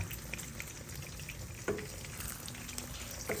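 Milkfish (bangus) fries in a pan for breakfast in Nueva Ecija, giving a steady crackling sizzle with a couple of sharp utensil knocks partway through.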